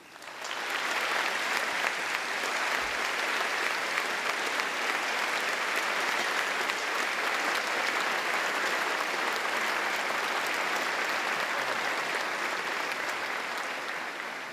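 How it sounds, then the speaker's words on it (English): A graduation ceremony audience gives a long, sustained round of clapping, dense and even from start to finish with no voices rising above it. "how about a long round of applause for all of these people who've dedicated their lives to this very important profession"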